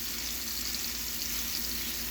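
Zucchini pizza boat filling sautéing in a pan, a dense, even sizzle holding at a steady level for a couple of seconds, close by and without speech.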